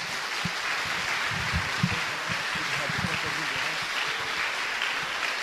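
A church congregation applauds for Jesus in steady, dense clapping that holds an even level for several seconds, somewhat distant and diffuse, with voices underneath.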